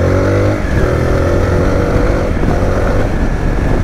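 A small, roughly 40-horsepower single-cylinder Zontes 350 motorcycle engine runs close by, a loud, steady, buzzy rumble that stays even throughout with no talk over it.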